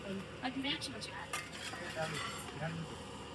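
Vegetables (tomato, potato, carrot and beans) are stirred in a cooking pot in a hostel kitchen, with a spoon scraping and clinking against the pot in irregular strokes, close and moderately loud.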